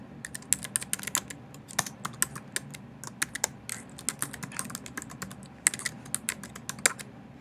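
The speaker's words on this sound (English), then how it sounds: "Pick recipients and send that person an email now, and I would type in Mr. Frederick's email." A computer keyboard clatters under quick, irregular typing, the keystrokes crisp and close in short bursts with brief pauses, quiet overall and without any talk.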